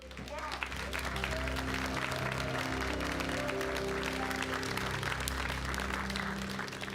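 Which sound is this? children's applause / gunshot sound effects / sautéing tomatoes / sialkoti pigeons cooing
children's applause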